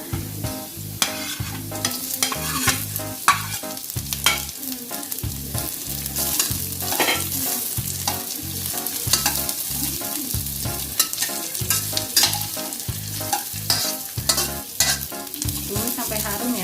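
Chopped onion frying in a pan while fettuccine brulee is cooked with simple kitchen tools, giving a steady loud sizzle broken by repeated scraping and stirring strokes throughout, with no talking.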